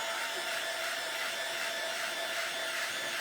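A hair dryer blows steadily on fresh paint coating a thrifted metal cheese grater. It is a loud, constant close-up roar with no breaks and no voices.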